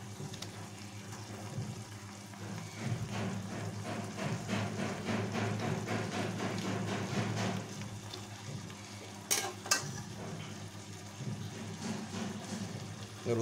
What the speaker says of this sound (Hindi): मसाला तैयार हो चुका है दोस्तों, अब इसमें अंडा मिलाएंगे हम लोग